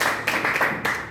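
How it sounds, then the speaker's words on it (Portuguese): A church congregation claps hands in a brief burst of close, steady clapping, with a few louder accents, lasting just over a second. "Eu te peço que dá uma salva de palmas para o Senhor Jesus."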